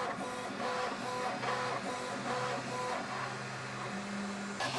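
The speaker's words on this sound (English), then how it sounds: "there's this buzzing noise that's actually pretty bad" Continuous mechanical buzz from a QidiTech X-Smart 3 3D printer, carbon fiber rods grinding in tight brass bushings, steady and close with shifting tonal whine underneath, no talking.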